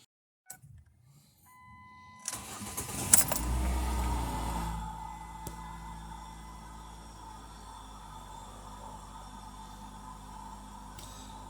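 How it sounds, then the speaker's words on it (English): A Ford Focus engine cranks and starts after a temperature sensor replacement, a short whirring crank and a catch, then a steady low idle that settles and runs on, preceded by a few faint clicks. "I'm gonna put the plug down and start the car"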